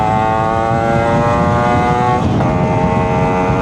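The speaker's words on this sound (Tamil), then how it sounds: "இப்போ ஒரு கியர் கட் பண்ணி ஏற்றுறேன்." A Yamaha RX135 motorcycle engine drones loud and close at speed, a sustained buzzing two-stroke tone that dips briefly with a gear change and then climbs again under acceleration, with no voices.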